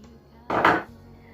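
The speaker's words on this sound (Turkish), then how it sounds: "Tüm malzemeleri iyice karıştırın." Dumpling filling of chicken with sesame oil, oyster sauce, soy sauce and sugar is mixed in a bowl, heard as one brief, close scraping clatter of utensil against the bowl amid near silence.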